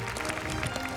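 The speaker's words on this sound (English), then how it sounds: "Let's applaud this miracle on the stage" An audience applauds performers on stage at a classical music grand finale, a dense, even wash of many hands clapping, brief and fairly loud.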